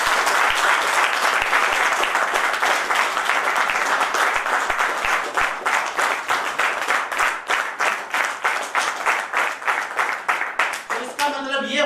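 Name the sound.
audience applause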